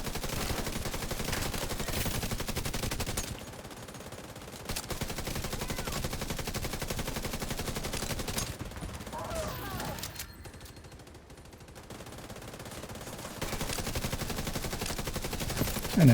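Gunfire in Helldivers 2, dense rapid shots rolling on for long stretches with a brief lull in the middle, loud and steady with no talking over it.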